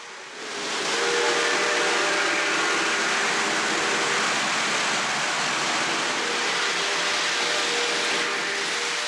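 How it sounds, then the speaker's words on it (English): Model passenger train of Atlas Premier cars running around a track, a steady loud broadband whir and rumble with faint tonal hum that rises in the first second and holds continuously. "Look at this train buzzing around the track."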